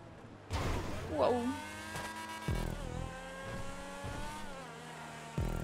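Video game car racing in GTA 5 Online, a steady engine drone with a brief tire squeal early on, while people talk over it throughout.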